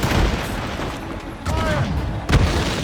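Ship cannons booming in a naval battle in the video game Assassin's Creed Rogue, several heavy blasts amid dense battle noise and continuous crew shouting.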